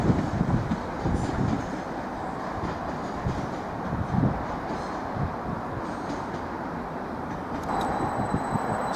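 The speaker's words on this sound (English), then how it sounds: "on 755403, just accelerating away en route to Stansted Airport" Train 755403 pulling away from Norwich station, a steady rumbling drone of the departing unit with a few louder swells and a faint tone near the end.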